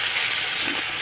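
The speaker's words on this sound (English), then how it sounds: "I knew I set it in the frying pan." Catfish frying in butter in a frying pan, cooked outdoors over a fire, giving a steady close sizzle and hiss with no talking.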